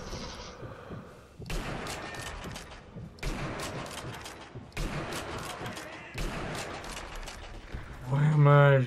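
Gunfire in Sniper Elite V2, five or six sharp shots spaced about a second apart over a noisy game background, with a voice heard briefly at the end.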